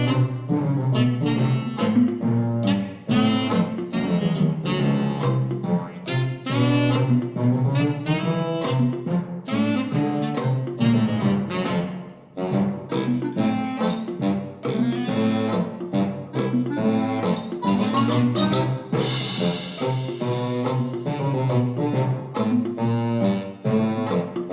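Big band arrangement whose lead line passes from tenor sax to clarinet to baritone sax over a full ensemble, a busy continuous passage that is loud and close throughout with no talk.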